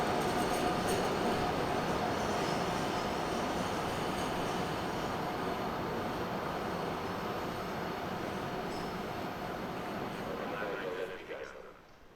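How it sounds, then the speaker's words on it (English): A Slovakian class 240 electric locomotive, number 135 and built in 1970, hauls a cargo train, a loud continuous rumble of wagons rolling past close by that fades at the very end. "Another Slovakian cargo class 240, this time number 135."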